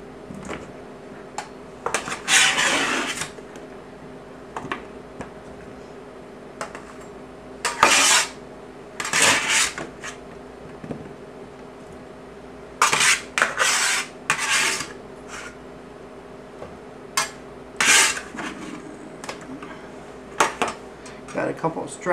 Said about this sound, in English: we want to gently fold the potatoes into the dressing so that way we're not breaking them